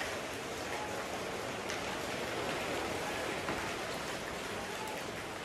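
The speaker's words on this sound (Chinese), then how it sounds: "下雨喽" Rain falls steadily outdoors in Dali, a soft, even hiss of drops that stays faint and continuous throughout, with no talking over it.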